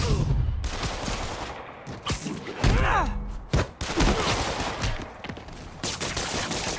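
Rapid gunfire in a Spider-Man video game fight, dense crackling shots and bursts layered with thuds and whooshing web-swing effects, loud and busy throughout with brief grunts.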